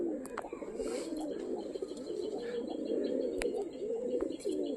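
Pigeons coo in a steady, low, rolling murmur close by, broken by a few sharp ticks and brief chirps that may come from wing claps as some of the birds fly overhead.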